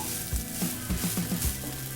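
Vegetable fried rice frying in a pan over a lowered flame, a steady loud sizzle broken by a few dull knocks and scrapes as it is stirred.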